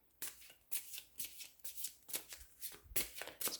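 Tarot cards shuffled close by in quick repeated riffles and slides, crisp papery bursts coming in an irregular rhythm, quiet and alone without talk.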